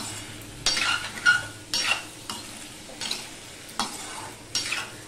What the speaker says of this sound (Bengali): আমি কিন্তু মিডিয়ামে দিয়ে আলুটা ভাজছি